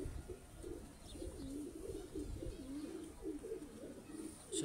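Old Rampuri bloodline pigeons coo faintly in a continuous wavering murmur, distant and low against a steady background hiss.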